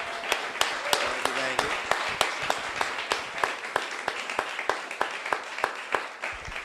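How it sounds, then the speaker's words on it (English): After a panel discussion at a YOG Talks evening, a modest audience claps, with a few sharp, distinct hand claps standing out in a loose rhythm over a thinner ripple of applause, while brief voices sound early on. "let's have a round of applause"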